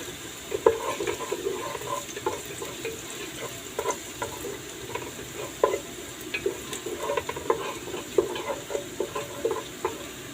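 Garlic sautéing with browning beef for balbacua in a tall pot, a continuous sizzle under frequent scraping and clinking stirs of a utensil against the metal, close by.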